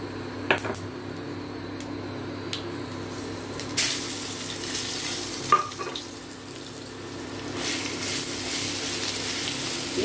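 Bitter gourd hits hot oil seasoned with panch phoron in a pan, giving a steady, close sizzle and crackle with sharp spatula taps and scrapes as it is stirred, and no talking.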